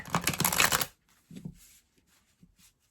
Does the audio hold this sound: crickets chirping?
no